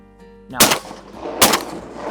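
Shotgun fired at ducks during a Minnesota duck opener hunt: two sharp, loud blasts about a second apart, close by, with an engine-like hum in the background.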